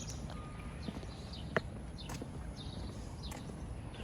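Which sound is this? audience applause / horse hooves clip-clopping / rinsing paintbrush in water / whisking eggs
horse hooves clip-clopping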